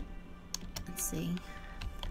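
Keys on a computer keyboard clack in a quick, uneven patter, faint and close, while a voice talks over part of it.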